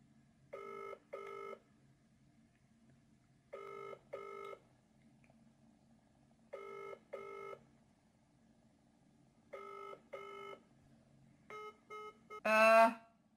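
A phone rings out on a call to McDonald's that nobody answers: five evenly spaced double-burst rings, fairly quiet over a low background hum, followed by a short beep at the end.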